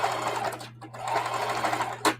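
A sewing machine stitches old jeans into a tote bag, running in steady whirring bursts with a brief pause midway and a short stop near the end, close and moderately loud with a constant low hum beneath.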